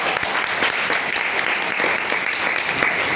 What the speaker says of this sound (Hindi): तालियां कम लगी हुई